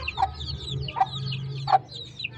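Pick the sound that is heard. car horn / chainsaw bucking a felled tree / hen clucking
hen clucking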